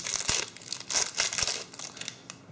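Plastic packaging on DC jack connectors is cut open nearby, producing loud crinkling and snipping with a couple of sharp cutting clicks in a brief burst.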